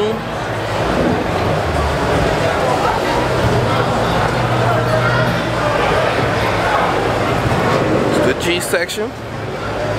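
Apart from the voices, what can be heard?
loud cars at a motor club meet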